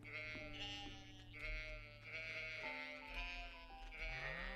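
Sheep bleat in the farming video game Stardew Valley with the Expanded mod: a few drawn-out, wavering cartoonish bleats rise over a steady, soft musical backing, with no talking.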